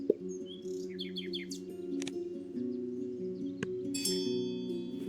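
Cowbird calls from the Wingspan Oceania board game play out in a burst of synthetic bird chirps and tweets, with repeated short twittering notes over a steady low musical drone and a few bright clinks.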